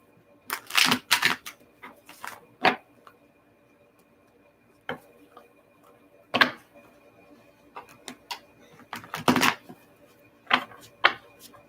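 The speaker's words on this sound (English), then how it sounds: "Trying to shuffle these and they're not wanting to be shuffled." Tarot cards are shuffled by hand in a quiet room, heard as scattered crisp riffles and taps in irregular bursts, some in quick clusters, with pauses between.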